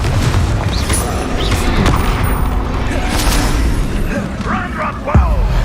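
Blasting spell effects in Hogwarts Legacy, a Confringo fire spell mixed with Bombarda, bursting in dense overlapping booms and whooshes with a continuous loud game soundscape and some talking over it.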